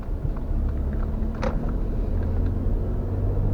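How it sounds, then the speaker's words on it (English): A Mercedes-Benz GLE350 V6 engine idles with a steady low rumble, close and continuous, with no talking. "I think the engine sounds pretty nice too for a V6."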